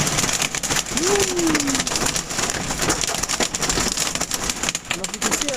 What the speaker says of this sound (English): Bit of hail. More wind than anything.